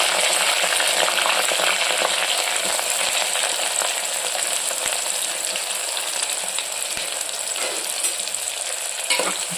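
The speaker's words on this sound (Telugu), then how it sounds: "ఇగోండి, 2 ఆనియన్స్ 4 పచ్చిమిర్చి ఇవి యాడ్ చేస్తున్నాను." Onions and green chilies fry in hot oil with whole spices like shahi jeera, cardamom and cinnamon, giving a loud, continuous crackling sizzle with occasional stirring clinks, close up and without talk.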